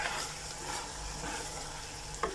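Soft scraping of a utensil stirring salted kale in a hot pan, with a faint steady sizzle underneath and one brief sharper clink near the end, quiet and close.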